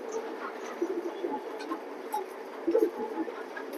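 A female red checker pigeon coos in soft low murmurs, a faint steady burble with a brief louder swell near the end, set against quiet room noise.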